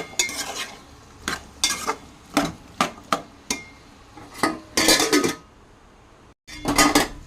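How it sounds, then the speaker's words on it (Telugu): Cucumber pieces frying in a pan and being stirred with a metal spoon: repeated sharp scraping and clinking strokes in an irregular rhythm over a soft background sizzle, close and fairly loud, with a brief silence near the end. "దోసకాయ ముక్కలు ఫ్రై అవుతున్నాయి"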